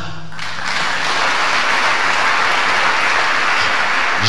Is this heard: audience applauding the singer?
yes